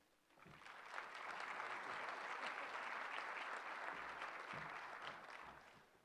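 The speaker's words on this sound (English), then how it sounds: "thank you for the applause" A banquet audience at a hockey event applauds as speaker George McGuire is introduced, a dense, sustained wash of clapping that swells quickly, holds steady for several seconds, then begins to fade.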